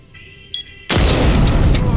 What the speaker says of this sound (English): I'm curious if I still shoot them in the arm or leg, will they just insta-die by Callie's sniper?